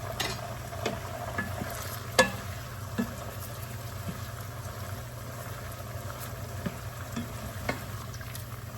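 Onions browning in oil for an onion sauce, a soft, steady sizzle with occasional light clinks and stirring knocks, faint and continuous, with no talk.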